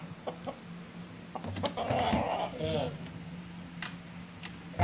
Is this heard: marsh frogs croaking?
no